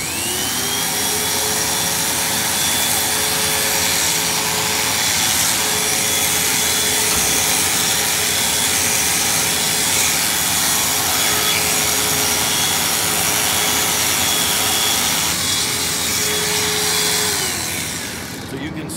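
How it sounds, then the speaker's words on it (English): Electric clippers trimming the tail of a first-calf dairy heifer, a steady loud motor buzz with a constant whine running nearly the whole time and fading slightly at the end. "using this clipper, trimming up this very nice first calf heifer so she's ready to start milking"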